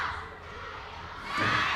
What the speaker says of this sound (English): You can see the cheers of the crowd. The rumbles, The rumbles. And the drums. The cheers.